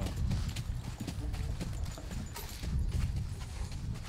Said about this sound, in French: C'est un cheval à Sadler Swell, celui-là